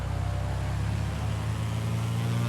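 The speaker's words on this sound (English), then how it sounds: "If you listen to that transition from the grunt of the engine to the whine of the prop." Carenado Cessna C182T single-engine piston aircraft in Microsoft Flight Simulator, a steady droning engine with a low throbbing pulse and a rising propeller whine layered over it, continuous and loud without talk.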